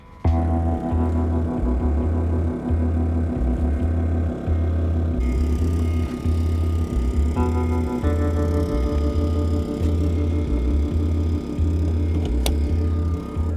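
A small portable generator runs steadily while charging a BMW i3 electric car, giving a continuous loud engine drone with an even, unbroken rhythm and no talk.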